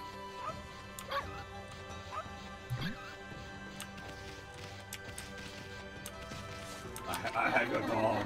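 Yips, barks and a soft whimper from a dog in the video game Okami HD, with several short calls spread through the clip over game music, ending in a louder burst of game sound.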